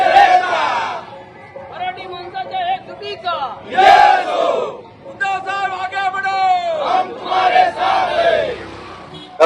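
Party workers in Sindhudurg cheer and chant loudly in celebration, rhythmic crowd shouts and whoops rising and falling in waves, close and energetic.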